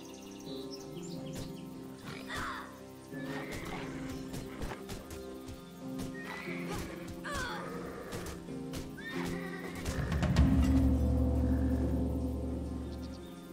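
A horse in the video game Titan Quest Anniversary Edition whinnies and snorts repeatedly amid other animal cries and clatter, ending with a louder low rumble of noise.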